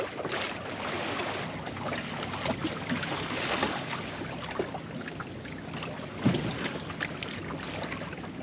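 Continuous rushing wind and water wash around a small sailboat, with soft irregular flapping of the sails and a louder knock near the end.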